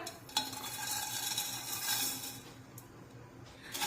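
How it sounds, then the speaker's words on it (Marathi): Vermicelli roasts in ghee in a kadhai while being stirred, with a spoon scraping and clinking against the pan over a faint sizzle, and a louder knock partway through. "आता तूप विरघळलं की यामध्ये या शेवया टाकून या शेवया भाजून घेऊया"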